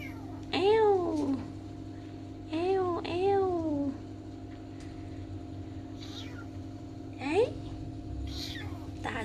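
A cat meows several times, drawn-out wavering cries, close by, with a few softer sounds and faint background hum between them.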